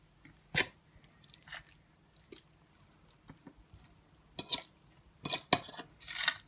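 Mashed topping gets dolloped onto a lean minced beef and pea base, giving soft wet squishes and a few utensil clicks against a dish, scattered and quiet with pauses between.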